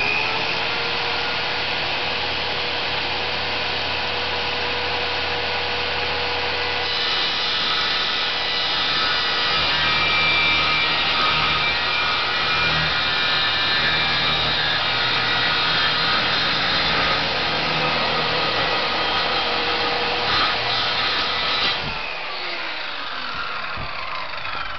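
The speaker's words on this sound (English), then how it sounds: "the circular saw wins in the battle of the saws" A circular saw cuts through wood in a long, continuous, loud buzzing rip that holds steady for over twenty seconds before cutting off.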